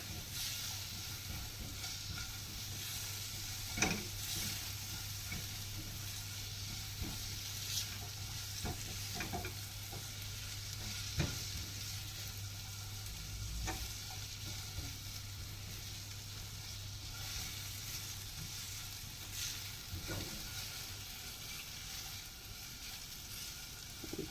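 Vegetables for a chicken steak fry in a pan with a steady close sizzle, while a utensil stirs through them and clinks faintly against the pan at irregular moments.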